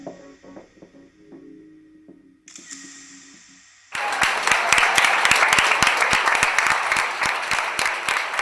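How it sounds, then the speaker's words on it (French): Thunderous applause erupts at the close of a fashion show, a sudden loud wall of dense clapping after quieter tones and a brief electronic swell. "À la fin du spectacle, c'est un tonnerre d'applaudissements."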